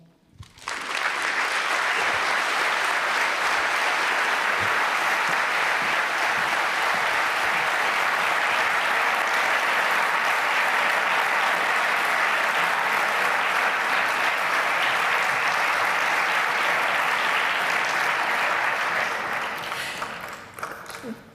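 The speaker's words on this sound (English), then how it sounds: "As you can hear that applause, you can see how much your words were appreciated." Long, sustained applause from the audience at the UNESCO 'Internet for Trust' global conference swells quickly and stays loud and dense for about twenty seconds before tapering off.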